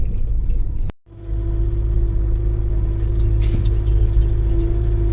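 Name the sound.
car driving on a rough hill road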